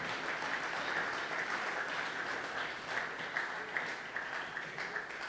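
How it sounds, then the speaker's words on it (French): A church congregation at a Sunday worship service applauds after the Bible reading, a steady, fairly distant wash of clapping that carries on without pause. "Acclamons très fort la parole du Seigneur."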